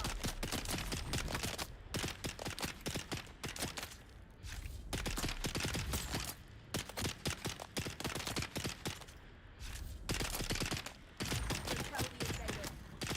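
Enemy gunfire in Dune: Awakening: a stationary shooter fires long, loud, rapid bursts separated by brief pauses, close and harsh, with some speech faintly mixed in.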